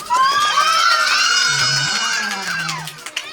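A loud birthday party crowd shouting, clapping and cheering, high excited children's voices mixed with screams, sustained throughout at close range.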